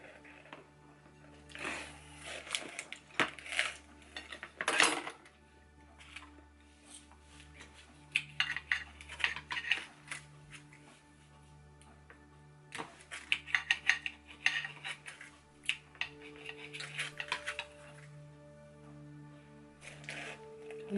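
A metal fork clinks and scrapes against a plate while someone eats fries, quiche and smoked sausage, in irregular bursts of close, bright taps and scrapes.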